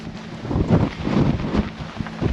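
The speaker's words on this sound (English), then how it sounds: "Wind." Strong wind blowing across a wet Dartmoor tor summit, buffeting the microphone with loud, continuous gusty rumble and whooshing, no talk.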